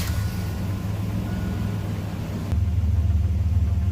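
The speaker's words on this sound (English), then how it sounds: "Alright, I'm going to turn the truck on for you guys so you guys can hear it." A Chevrolet S10 Blazer LS truck engine is started and settles into a low, steady idle, its rumble growing slightly louder partway through.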